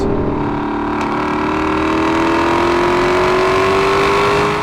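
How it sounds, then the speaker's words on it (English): A 2017 Lexus LC 500 with a 5-litre naturally aspirated V8 revs hard and continuously, its loud engine note climbing steadily throughout, close and alone. "That 5-litre V8 I talked about is an absolute ripper."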